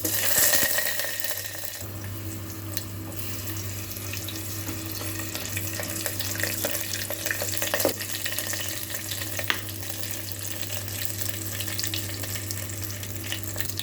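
Urad dal, chana dal, mustard seeds and green chili fry in oil inside an electric kettle, a continuous crackling sizzle with a low steady hum from the kettle and occasional stirring clicks.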